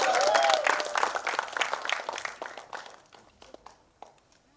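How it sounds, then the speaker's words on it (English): An audience at a mall event at Inorbit Mall, Malad, breaks into a burst of loud, dense clapping that thins out and fades to a few scattered claps over several seconds. "huge round of applause for you all"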